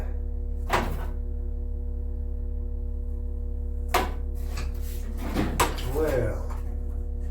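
Wooden drawers thunk and slide open and shut in a few separate bursts over a steady electrical hum, with a person talking between the knocks while hunting for scissors.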